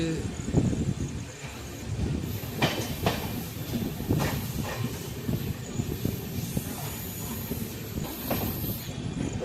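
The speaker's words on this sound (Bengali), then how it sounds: "ট্রেন এখন রানীগঞ্জ স্টেশনে" A passenger train on the line from Ranaghat toward Banaras, at Raniganj station, gives a steady low rumble with intermittent clicks and hiss. Voices talk over it throughout.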